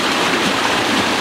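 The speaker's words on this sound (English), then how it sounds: "The old river seems to be flowing really quickly around here" A fast river runs close by in a steady, loud rush of broadband water noise that never pauses, with no voices over it.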